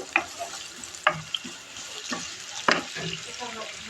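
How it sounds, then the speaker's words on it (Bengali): Spice paste frying in a pan while being stirred, with a soft continuous sizzle broken by several sharp scraping stirs roughly every second, close and moderately loud, with no talking. "পেস্টটা ভেজে নিচ্ছি একটু লাল করে নিচ্ছি"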